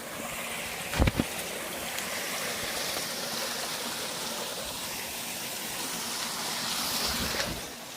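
Continuous rushing of stream water at Kuliraatti Falls, Saptur Vazhaithoppu, steady and fairly close, with a brief knock near the start and a slight swell in the wash later.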